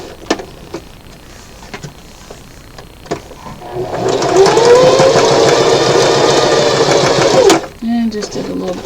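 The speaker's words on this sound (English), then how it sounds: "just did a little back stitch and we're done" A sewing machine runs a short back-stitch on a handkerchief, a steady close mechanical whir lasting about three and a half seconds, preceded by light handling clicks and ending abruptly.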